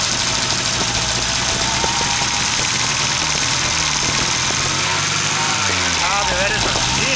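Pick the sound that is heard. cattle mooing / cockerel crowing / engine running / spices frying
engine running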